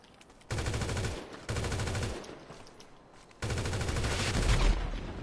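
Bursts of automatic gunfire from a firefight in GTA V Online, loud and close, firing in three sustained volleys separated by short pauses, with no talk over them.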